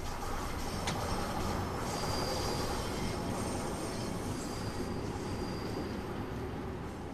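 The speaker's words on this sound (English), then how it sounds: "The trains that operate are the oldest on the network, taking their name from the year they were introduced, 1972 Tube Stop." A London Underground 1972 Stock train on the Bakerloo Line in Train Sim World 2 rumbles along the track in a dense, steady roar, with faint high wheel squeal and rattling carriages throughout.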